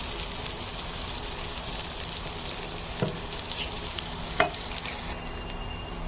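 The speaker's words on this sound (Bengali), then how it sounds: "রসুন এবং পেঁয়াজগুলো এক থেকে দুই মিনিট আমি ভেজে নেবো" Onions and garlic hiss and sizzle steadily in hot oil, a continuous frying crackle with a couple of soft knocks from stirring.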